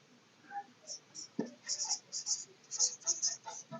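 Marker or chalk writing out a grammar example on a board in a classroom lesson, with a run of short scratchy strokes and squeaks in bursts, close and fairly quiet, plus one soft knock partway through.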